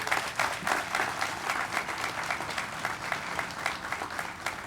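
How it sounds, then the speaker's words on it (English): Steady applause from an outdoor crowd at a corporate groundbreaking ceremony for a sales and distribution center, moderately loud clapping from many hands that continues evenly for several seconds. "So give a round of applause to everyone"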